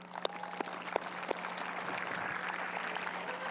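A graduation audience starts with a few scattered claps that swell into broad, sustained applause from a large crowd, heard at a moderate distance in a large hall.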